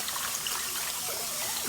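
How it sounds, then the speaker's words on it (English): Rice being rinsed by hand in cold water, swirled and the cloudy water poured off, gives a steady close trickling and splashing stream with no speech. "I want to give it a spin, cold water, and that water is going to get really cloudy, and we'll pour it off."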